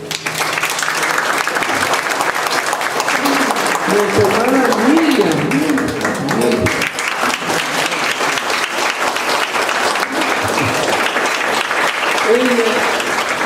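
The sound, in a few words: applause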